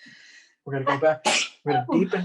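A brief sneeze bursts out near the start of a fine art painting lesson, and a man then carries on talking in a calm, close voice.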